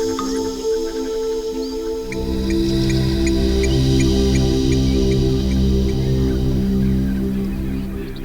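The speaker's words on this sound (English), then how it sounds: "Large flock of helmeted guinea fowls scurry around, squabbling in the cold morning air" Large flock of helmeted guinea fowl calling and squabbling in cold morning air, a dense continuous chorus of harsh, rattling cries that swells after the first couple of seconds and holds steady and loud.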